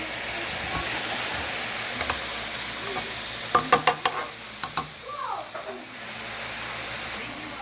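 Greens cook in a pan with a soft, continuous sizzle, and a cluster of sharp knocks and clatters from a utensil lands in the middle as the pan is worked.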